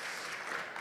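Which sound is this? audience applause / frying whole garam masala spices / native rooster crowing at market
audience applause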